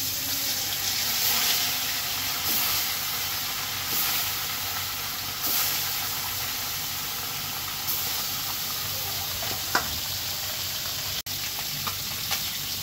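Red snapper pieces frying in hot oil with a steady, close sizzle and hiss throughout, with occasional faint clinks and a sharp click near the end.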